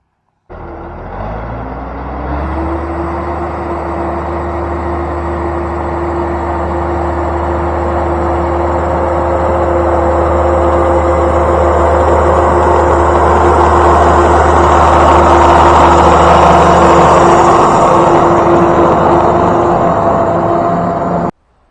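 A heavy tractor engine rumbles steadily nearby, its low drone rising in intensity as it works, then cutting off abruptly at the end.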